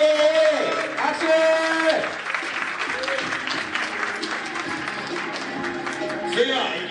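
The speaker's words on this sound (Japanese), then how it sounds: "拍手。" An audience claps and cheers at an open-class skateboarding contest, the applause loud and close at first and then fading under an announcer's voice that talks over it.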